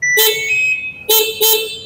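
Horn of a United TX3000 electric motorcycle, three short bright honks, the first longer and the last two quick in succession, loud and close.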